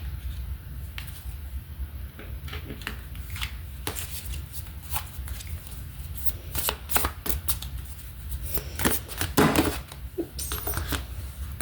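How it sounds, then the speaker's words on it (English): Tarot cards are shuffled close up, giving repeated soft riffling and slapping bursts with small taps between them, over faint background hiss. "Let's pull some of your overall energy cards."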